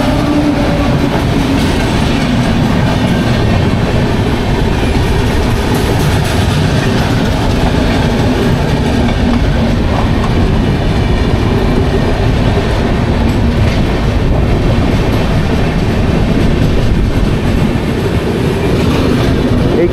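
Howrah–Puri Superfast Express 12837 crossing the Coromandel Express near Bahanaga Bazar station: a loud, steady rolling rumble with continuous clickety-clack of wheels on rails for the whole stretch, no voices.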